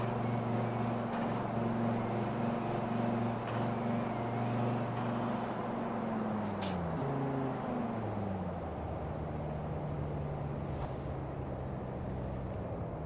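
A car fitted with a generic swapped engine in the racing game Forza Horizon 4 drones with a steady, loud engine hum whose pitch drops partway through, then settles to a lower idle.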